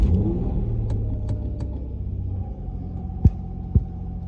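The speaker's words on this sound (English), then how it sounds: "to test it, I'm going to start the car" An Infiniti G35 with a just-repaired gauge cluster cranks and settles into a steady, low idle hum, with a couple of sharp clicks near the end, close up and with no talking.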